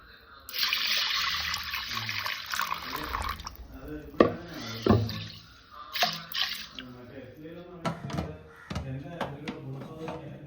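Tap water runs into a sink as green gram is washed before going into a pressure cooker, a bright continuous stream at first, then splashes, drips and clatters of handling.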